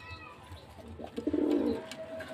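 A Giribaj pigeon gives a short, close coo that swells and fades within about a second, standing alone in a quiet space.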